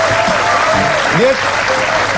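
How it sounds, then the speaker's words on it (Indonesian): On an Indonesian TV talk show, a studio audience claps in a steady loud burst of applause, with voices talking over it. "tepuk tangan, clap your hand"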